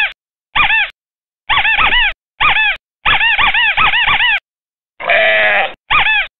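A synthesized dog barks and whines in a Jeff Minter video game, loud and close in a string of short electronic bursts, some wavering like bleats.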